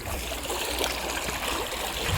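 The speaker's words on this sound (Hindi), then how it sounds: "डिग्गी अज भी चली हुई है देखो पानी यहीं आ रहा है इधर" Water from an irrigation tank running into a crop field, a continuous close gurgling flow with a low rumbling undertone, steady throughout and with no voices.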